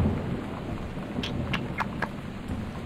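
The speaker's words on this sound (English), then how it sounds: "Oh, thunder!" Thunder in the video game Gone Home: a low, steady rumble under soft rain, with a few faint crackling flickers as a storm rolls at a distance.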